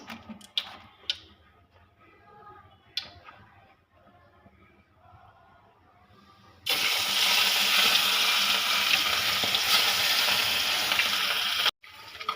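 Fish fries in mustard oil; after a few quiet ticks and taps, a loud, dense sizzle bursts in and holds steady until a short break near the end.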